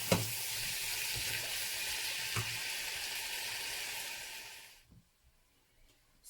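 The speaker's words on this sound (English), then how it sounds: "Put the heat on the medium, on the low, sorry, and let it cook for a few minutes." Vegetable samosa filling sizzles steadily in a pan over low heat, with a couple of stirring scrapes, for about five seconds before the sound abruptly drops to near silence.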